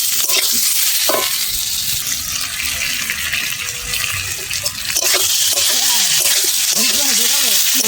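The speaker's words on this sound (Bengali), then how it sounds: "এবার আমি দিয়ে দেবো আলু। আলু দিয়ে একটু ভালো করে কষিয়ে নেব।" Potatoes sauté in spice paste for aloo dum, a broad, loud hiss and sizzle with a few sharp utensil knocks, and faint distant voices and birdlike chirps in the background.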